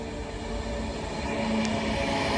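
An Avanti West Coast Class 390 Pendolino on a Manchester Piccadilly to London Euston service draws into Nuneaton on the West Coast Main Line, a steady low rumble with a faint brake tone building as it arrives.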